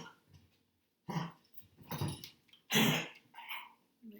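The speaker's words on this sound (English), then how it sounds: "My dog is coughing." A dog close by makes a series of short, harsh hacking coughs in irregular bursts, with quiet pauses between them.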